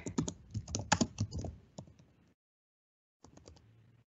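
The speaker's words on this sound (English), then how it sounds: "just typing this in." Typing on a computer keyboard, a quick run of close, soft key clicks for about two seconds, a short silence, then another brief burst of keystrokes, no speech.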